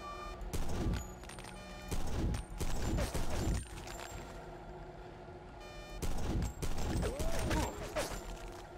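Bursts of rapid gunfire in the video game Deus Ex Revision, loud clustered volleys separated by short pauses, with electronic beeps in between.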